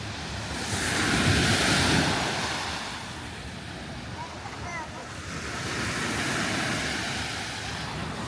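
Ocean waves wash onto a beach in Alanya, Turkey in two broad swells, a steady roar of surf with wind buffeting the microphone.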